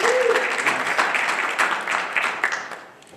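A conference audience breaks into a round of applause: dense, steady clapping that fades out toward the end, with a brief voice at the start.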